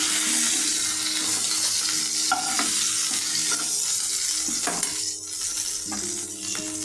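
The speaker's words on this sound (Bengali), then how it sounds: "মাছটা কড়া ভাজলাম না, এখন আধা ভেজে, মানে লাল লাল করে ভাজলাম না, কিন্তু একটু হালকা ভেজে এরকম উঠিয়ে নিচ্ছি" Tengra fish fries lightly in oil, a loud continuous sizzle with intermittent spatula scrapes and clinks against the pan.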